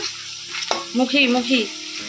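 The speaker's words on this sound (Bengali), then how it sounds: "মুখি ভাজা, মুখি কচুর ভাজা হচ্ছে" Mukhi kochu (taro) pieces frying in a pan, a steady close sizzle with stirring scrapes and a brief clatter near the middle, no voices.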